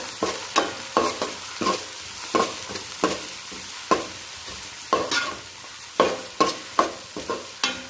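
Salted onions for crab biryani are stirred and mixed in a frying pan, a close rhythmic series of spoon scrapes and knocks over a continuous sizzle, with no voices.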